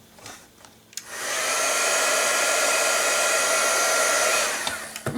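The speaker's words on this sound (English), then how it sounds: "this heat gun" A heat gun used for embossing on a handmade card starts after a brief quiet moment and blows a loud, steady rushing whir that holds for several seconds before cutting off.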